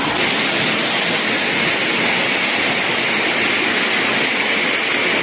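Ermai Falls near Bangaadi and Ujire in the Western Ghats roars continuously as water tumbles down from the ghat slopes, a loud, close, unbroken rush with no voices.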